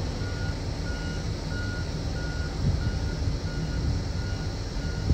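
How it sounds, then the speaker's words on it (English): A vehicle's backup beeper repeats steadily and faintly over a loud, continuous engine rumble from heavy equipment working on clay ground outdoors, with no voices. "I hear that backup beeper on it"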